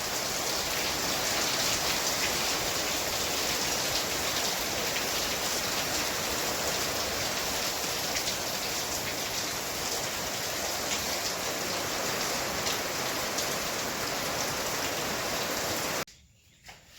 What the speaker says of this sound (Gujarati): સવારનો વરસાદ હો.